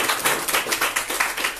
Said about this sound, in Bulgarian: ние аплодисменти да го посрещаме